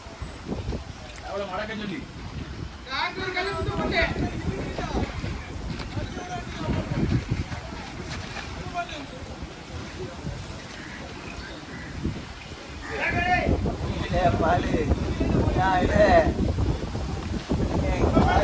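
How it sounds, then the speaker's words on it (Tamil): A fishing boat moves through the sea, with a steady wash of water and wind noise on the microphone throughout, swelling louder near the end while people talk over it. "நல்லா கரகரன்னு போகுது பாருங்க போட்டு"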